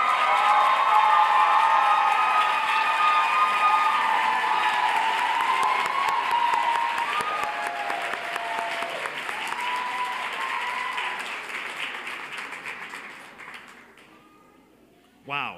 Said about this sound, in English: please stand up and get a round of applause.